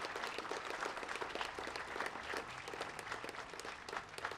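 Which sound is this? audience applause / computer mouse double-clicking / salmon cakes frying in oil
audience applause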